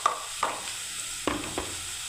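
Onions frying in a pan for a Bengali piyaji posto dish, a low steady sizzle with a few sharp scrapes of stirring spaced through the short stretch, heard close with no voices.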